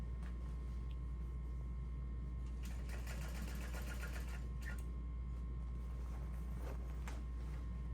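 A sewing machine top stitches a seam on a Daisy handbag, a rapid mechanical chatter of stitching in a short burst mid-clip, over a constant low motor hum and faint background noise.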